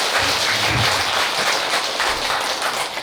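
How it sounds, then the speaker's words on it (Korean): Audience applause fills a temple hall during a Buddha's Birthday dharma sermon at Seongheungsa in Gunsan. It is a dense, steady clatter of many hands, held at an even level for the whole stretch, with no voices over it. "박수 안 칠 수는 없잖아요"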